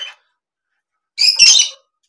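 A brief chirp, a pause, then a harsh, close squawking call from a pet bird lasting about half a second, with no voices.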